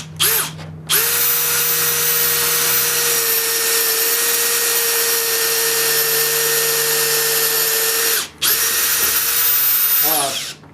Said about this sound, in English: drill your holes.